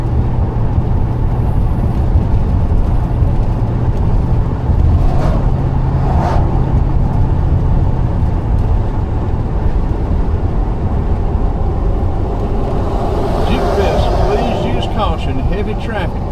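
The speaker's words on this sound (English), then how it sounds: "Heavy traffic." Heavy road traffic rolls past at a Jeep festival, a steady mix of engine drone and passing vehicles, with people talking over it throughout.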